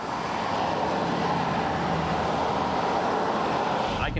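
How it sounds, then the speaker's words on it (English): Steady traffic noise from surrounding cars on a road, a continuous broadband rumble and hiss heard from inside a silent, stopped homemade electric car, with no voices. "all you can hear is the other cars making lots of noise."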